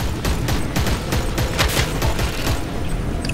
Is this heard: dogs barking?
no